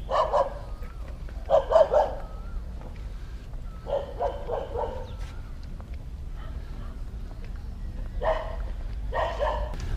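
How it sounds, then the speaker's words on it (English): Street dogs in Thailand, near a temple ruin, bark in short repeated bursts at moderate distance, several yaps rising and fading between quieter gaps with light background ambience. "Lots of soy dogs around."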